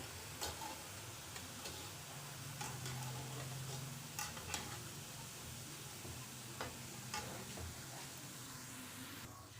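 Sev fries in hot oil with a constant soft sizzle and bubbling, joined by occasional light clicks and taps and a brief low hum partway through, all fairly quiet.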